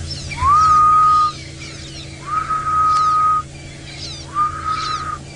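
Grey-headed bushshrike, known as the ghost bird, giving three long, drawn-out whistled hoots at dawn, each rising then holding steady, with other birds chirping softly in the background.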